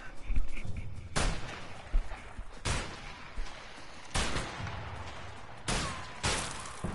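Gunfire in the video game A Way Out: heavy, booming shots arrive in separate bursts about every second and a half, loud and close, over a steady background rumble.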